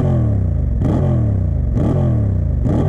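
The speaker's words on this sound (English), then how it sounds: "Honda did a really good job on this exhaust" Honda Hornet 750 2023 motorcycle exhaust revving up three times in quick succession over a steady idle, each blip rising sharply and falling back, loud and close.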